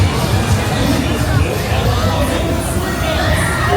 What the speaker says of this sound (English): It's a really nice crowd level tonight.